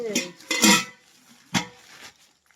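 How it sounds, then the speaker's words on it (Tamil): A metal pot for boiling milk being handled indoors, giving a few short clanking knocks and scrapes in two bursts separated by a pause, close and fairly loud with no talking. "பால் காய்க்கிறதுக்கு பாத்திரம்"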